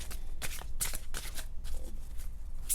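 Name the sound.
shuffling oracle cards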